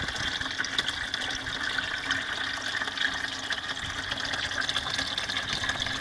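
Full flow of water pours through a soda bottle bell siphon in an aquaponics setup, a steady, loud rushing gush with no break throughout.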